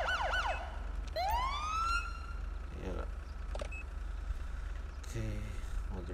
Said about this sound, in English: And then the sirens.